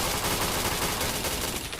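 Dense, continuous automatic gunfire from the shooter video game Point Blank, loud and sustained with rapid overlapping shots throughout, no talk over it.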